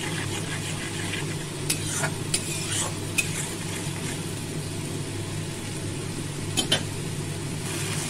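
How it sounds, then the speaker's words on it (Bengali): Spice paste with salt and turmeric sizzles and fries in a small wok, a steady close crackle broken by a few sharp scrapes and taps of a stirring spoon against the pan. "সেই মশলাটা একটা ছোট কড়াইয়ে নুন আর হলুদ দিয়ে আমি কষিয়ে নিচ্ছি"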